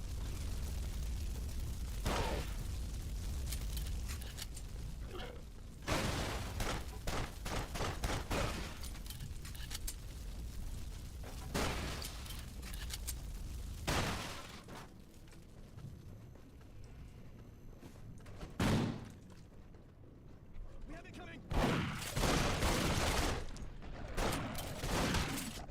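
Gunfire in a mech shooter video game: scattered loud shots and short bursts spread across a busy background of game noise, some close and sharp, others duller.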